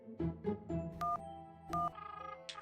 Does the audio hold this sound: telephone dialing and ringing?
yes